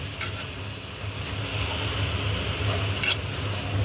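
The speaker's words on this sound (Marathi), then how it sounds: "चांगली परतून घेऊ 2 मिनिटं. भाजी टाकलेली ही मिक्स करून घेऊ." A spoon stirs young wal bean leaves as they sauté in a pan, with soft scraping and a light sizzle and a couple of brief clinks against the pan.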